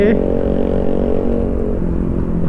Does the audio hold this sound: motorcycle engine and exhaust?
yes